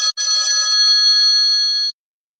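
A telephone rings loudly and alone with a steady electronic trill that runs for nearly two seconds after a brief break, then cuts off into silence.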